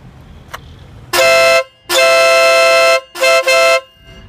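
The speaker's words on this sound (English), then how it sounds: "So it's really loud. I have my helmet on and it was really freaking loud with my helmet." A chrome Stebel Nautilus compact air horn fitted to a Vespa Stella 4T scooter blares in a big parking lot, with four loud, brassy blasts of varying length, two longer ones then two short ones.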